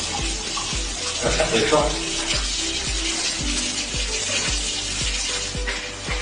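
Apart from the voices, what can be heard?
running tap water while washing hands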